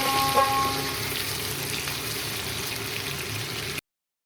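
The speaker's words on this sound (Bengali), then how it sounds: "নুন আর হলুদ দিয়ে আলু আর গাটি কচুটাকে খুব ভালোভাবে ভাজতে থাকবো" Diced potatoes and taro fry with turmeric and salt in hot oil, a steady close sizzle and bubbling hiss that holds evenly throughout before cutting off.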